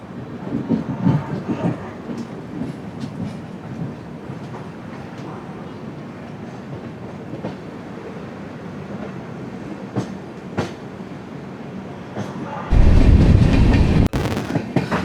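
The 12218 Kerala Sampark Kranti Express running past Ernakulam Junction, heard from inside as a steady rumble with rhythmic wheel clatter and scattered clicks, then a sudden loud roar near the end.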